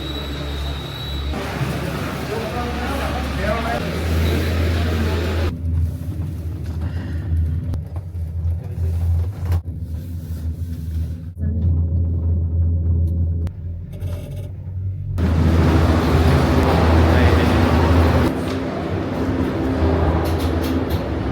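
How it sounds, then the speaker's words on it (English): Truck engine rumbling steadily as it drives up the slopes of Mount Etna, a low continuous drone that swells louder near the end, with wind and road noise on top. "Fast truck."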